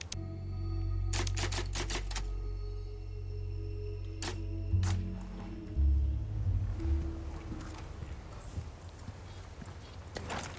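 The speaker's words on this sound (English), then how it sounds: "Ah, we have a typewriter." Typewriter save sound in Resident Evil 4 Remake: a burst of sharp mechanical clacks and a bell-like chime, followed by soft footsteps and low ambient room tone fading out.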